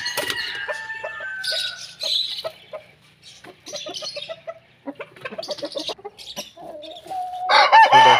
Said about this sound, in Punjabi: ਹੋਰ ਤਿੰਨੋਂ ਮੁਰਗੇ ਜਿਹੜੇ ਨੇ ਅਸੀਲ ਨਸਲ ਦੇ ਮੁਰਗੇ ਨੇ